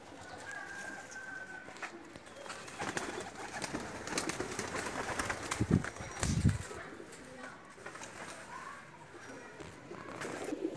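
Pakistani flying pigeons coo in soft, low bursts close by, with a pair of stronger coos near the middle, set against a steady outdoor ambience that carries faint chirps and rustling.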